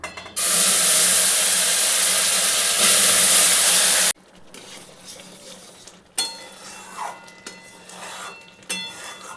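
Boiled water poured into a pan of roasting semolina for halwa sets off a loud, close hiss and sizzle lasting about four seconds, then drops to quieter bubbling with a few scrapes and knocks.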